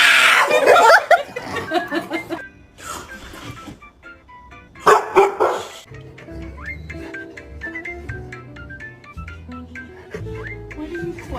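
A dog barks in short bursts amid a playful home setting, with people laughing and chuckling nearby and other household sounds between the barks.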